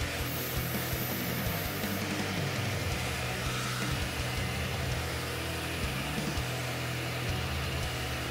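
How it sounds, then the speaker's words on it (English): A Dremel rotary tool sands down a small pipe piece for a model mech build, producing a continuous, loud grinding whir with a thin high whine at the start, steady and close. "so I'm just going to sand that down slightly on the Dremel"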